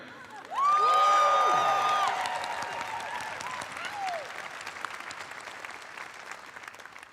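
A graduation audience at a law school precommencement bursts into applause with a long loud whoop and cheers, then the clapping continues steadily and gradually tapers off.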